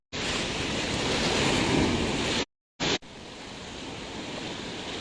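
Ocean surf breaking on a beach beside an eroding coastal road in Tasik, a loud, steady roar of waves with wind noise, cut by a brief gap before the rushing water resumes.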